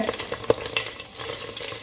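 Hot butter sizzling and spitting in a pan while tempering spices for green pav bhaji, with a steady crackle and a few sharper pops.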